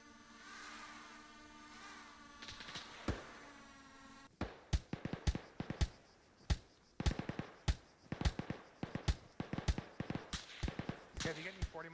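Rapid bursts of gunfire in the military shooter Arma 3, sharp repeated cracks at irregular intervals following an engine-like drone, with players talking over the shots.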